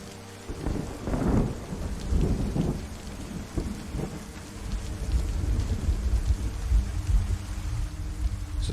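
Thunderstorm in the video game DayZ: rolling, rumbling thunder over steady heavy rain, with a loud crack early on and continuous downpour throughout, no voices.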